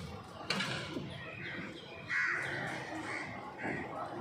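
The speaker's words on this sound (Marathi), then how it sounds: "त्यांना कलिंगड पण खूप आवडतं कावळ्यांना" Several crows caw harshly in a busy outdoor setting, their calls overlapping amid background noise, moderately close, while feeding on watermelon.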